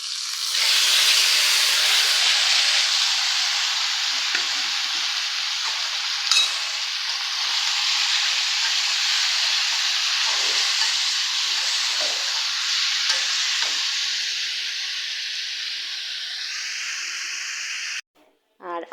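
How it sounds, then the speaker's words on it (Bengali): Onions and green chillies sizzle steadily in hot oil, a loud continuous frying hiss with occasional stirring scrapes, ending in a brief pause and a short burst of sound. "চুলাইতে কিন্তু আমি এই যে পেঁয়াজ কাঁচামরিচ দিয়ে তেলে দিয়ে ভাজতে আছি পেঁয়াজগুলো"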